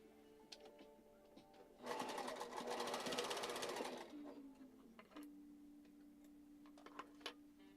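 A sewing machine stitches in one steady, quiet burst of about two seconds, with soft ticking and a faint hum before and after.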